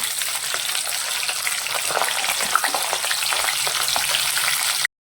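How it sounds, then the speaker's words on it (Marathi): Sweet corn and papad frying in oil over low gas, a dense continuous sizzle with faint crackles, close and steady throughout before cutting off abruptly at the end. "लो गॅसवर आपल्याला पूर्ण खरपूस भाजून घ्यायचे आहेत तळून घ्यायचे आहेत"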